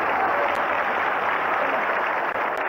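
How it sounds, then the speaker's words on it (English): Enthusiastic applause from Indonesian legislators after a vote electing Nasution to lead the chamber, a loud, dense, unbroken roar of clapping filling the hall from start to finish. "the enthusiastic applause that follows it"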